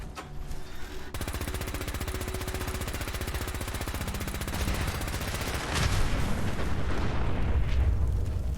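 Missiles exploding in Fallout 4, a sustained rapid crackle of blasts and gunfire-like bursts that swells louder toward the end, dense and continuous.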